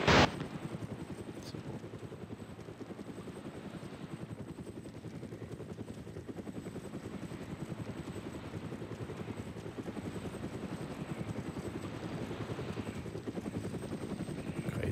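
Game helicopter in ArmA Cold War Assault, a Mi-17, thuds with a steady rotor chop for the full fifteen seconds, a constant droning pulse at moderate level with faint background game sounds.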